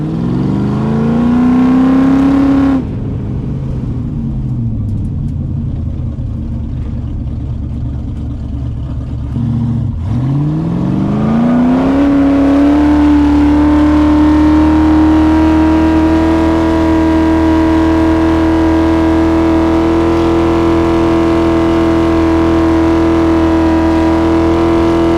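A 1970 Plymouth Superbird's engine roars loud and close through a burnout, revving hard, dipping, then climbing to a sustained high-rpm howl.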